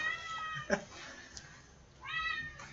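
A house cat being let out meows twice, a short sharp cry followed by a longer, louder drawn-out meow, close by against faint room noise.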